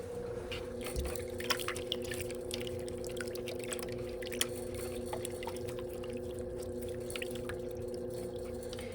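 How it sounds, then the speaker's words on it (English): Water squeezed from a sponge at a potter's wheel, faint irregular drips and trickles falling steadily over a constant low mechanical hum, with no one speaking. "Squeeze all the water out of your sponge."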